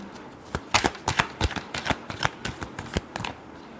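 Tarot cards are shuffled close up in a rapid run of crisp riffling snaps and flutters, with no talking over them.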